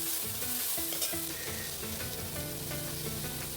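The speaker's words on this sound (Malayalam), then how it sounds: "ഇതിലേക്ക് നമുക്ക് സവോള അരിഞ്ഞ് വെച്ചിരിക്കുന്നത് ചേർക്കാം നന്നായിട്ട് വഴക്കിയെടുക്കാം" Sliced onions sautéing in a pan for a simple chicken curry, a steady close sizzle and fry with clattering stirs and scrapes of a utensil throughout, no voices.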